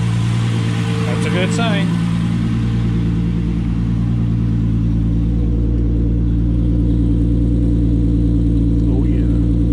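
A VR6 turbo car's engine runs at a constant loud drone while its wheels spin up on a stand; someone speaks briefly near the start.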